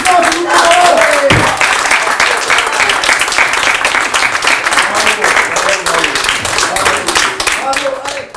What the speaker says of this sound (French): Attention, applaudissements, s'il vous plaît.